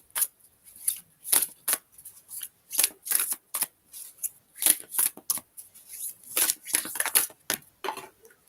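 A deck of roughly forty-odd oracle-style cards handled and shuffled, a close series of crisp irregular riffling and flicking bursts with short gaps between them.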